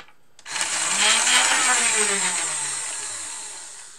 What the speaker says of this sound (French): Quand j'appuie sur le bouton pour lancer les moteurs,